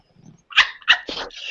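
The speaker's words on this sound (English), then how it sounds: "Stop bringing the damn dog over here." A dog barks in a few sharp, close yips after a brief low rumble, loud and alone with no talking over it.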